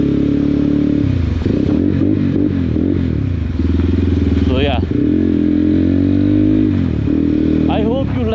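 A Crossfire CF 250 Twin motorcycle rides along with a loud exhaust. Its steady engine drone rises and falls through gear changes with brief revs, and someone speaks briefly over it.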